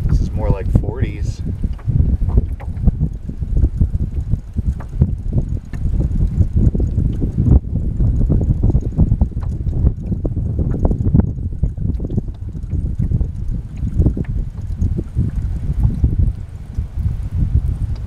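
Wind rushes and buffets across the microphone on open water during a chilly canoe outing for northern pike, a continuous rough low roar with gusty fluctuations throughout and a person speaking over it.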